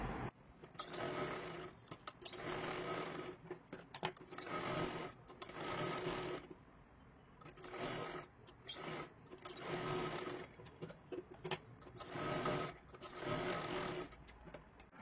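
Sewing machine stitching a katori blouse in repeated bursts of a few seconds each, with brief pauses between runs; close and steady throughout.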